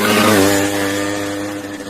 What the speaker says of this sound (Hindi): She is riding the motorcycle.